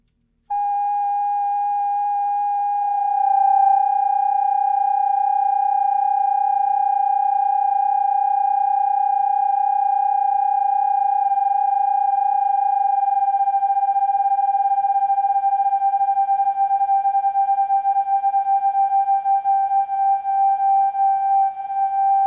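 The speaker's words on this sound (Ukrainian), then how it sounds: "Вмикаємо тестовий сигнал на магнітофоні тобто просто відтворюємо його і налаштовуємо" A steady test tone played back on a Sony TC229SD cassette tape recorder holds one pitch with faint upper overtones, starting abruptly and sounding loud and unbroken for over twenty seconds with no talk.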